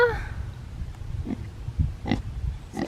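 A pet pig in a pig pool gives low, soft grunts and snuffles at irregular intervals, close by and fairly quiet, with a brief voice at the start and light splashy background noise.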